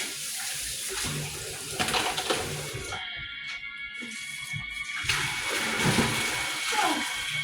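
Tap water runs steadily into a basin or tub to let something soak, a broad continuous rush with a brief quieter stretch midway, fairly close, with faint background voices.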